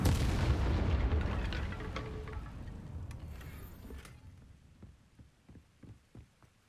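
Incendio fire spell cast in Hogwarts Legacy, a loud, dense roaring blast that fills the first few seconds, then thins into a fading crackle with a few scattered soft pops.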